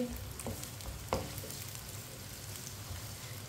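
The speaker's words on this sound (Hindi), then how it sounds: "एक बारीक कटा हुआ प्याज, प्याज को हल्का सा ब्राउन कर लेंगे।" Finely chopped onion sizzles steadily in hot oil in a pan, a dense even frying hiss with a few faint clicks of a spoon, with no talking.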